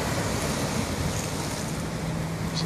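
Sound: ocean waves breaking on rocks at night

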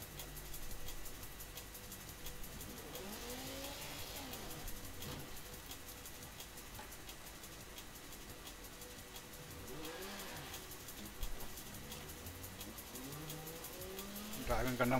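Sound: Ferrari Formula 1 car engine in Forza Horizon video game

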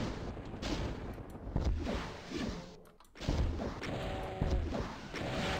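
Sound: rocket launcher firing in Ultimate Doom video game

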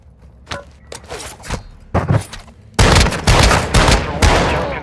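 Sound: gunfire in the video game Call of Duty Modern Warfare II

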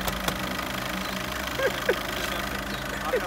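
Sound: car engine running

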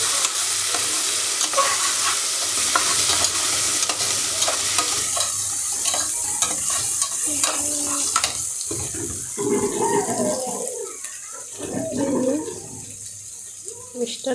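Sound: stirring chicken curry in a pan

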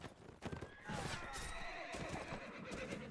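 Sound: horse neighing in Mount and Blade Warband video game

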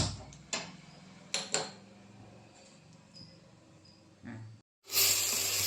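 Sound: stove being lit, burner hissing

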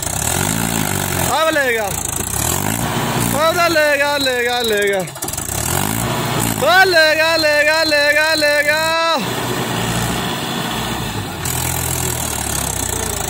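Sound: Mahindra 575 DI tractor engine pulling stuck trolley

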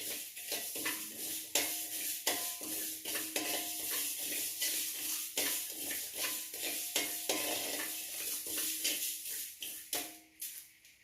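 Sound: roasting ingredients in a pan

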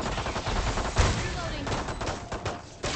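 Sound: gunfire in VALORANT video game

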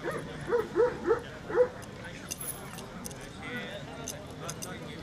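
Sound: dog barking

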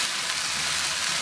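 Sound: chili added to frying onions and okra, sizzling

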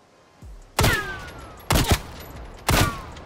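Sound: gunfire from Call of Duty Cold War video game

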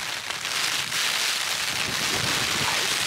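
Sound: rain and wind

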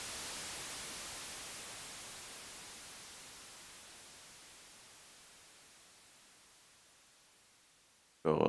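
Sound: white noise fading in on Elektron Machinedrum, slow attack

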